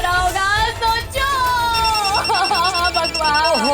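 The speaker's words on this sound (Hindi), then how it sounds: "ओहो परी थोड़ा धीरे रहो ना, फोन आ रहा है" A phone rings in a busy Hindi household scene, a repeating electronic ringtone tone running steadily through the second half, mixed with ongoing speech and background music.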